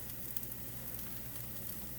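Boiling water poured over a brick of ramen noodles, giving a steady hissing, bubbling splash that stays even and close for a couple of seconds, with no talk.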